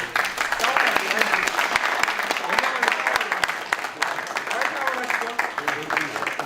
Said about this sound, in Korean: 박수 한번 주시고